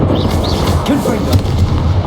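Confringo blasting spells explode in Hogwarts Legacy as a dense, booming rumble with a sharper burst partway through, heavy and close over continuous game ambience.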